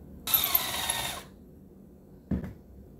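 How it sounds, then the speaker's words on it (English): A power drill runs for about a second, boring a pilot hole into wood, close and fairly loud, then cuts off; a short dull knock follows after a pause. "What I'm doing right now is I'm starting a pilot hole"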